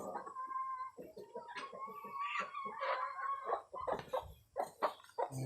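Black Australorp chickens cluck close by in a repeated, rhythmic run of short calls, with a few louder squawks toward the end; no talking.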